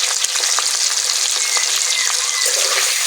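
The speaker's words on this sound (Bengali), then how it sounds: "হালকা করে মাছগুলোকে ভেজে নেব" Prawns seasoned with salt and turmeric sizzle lightly in hot oil, giving a loud, even, crackling hiss that runs the whole moment with no talk.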